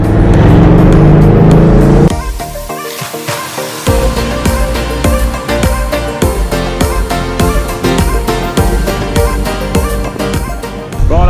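An off-road vehicle drives off a barge onto Moreton Island, its engine loud and close, first a strong roar and then a steady rumbling drive with rattles over a rough surface.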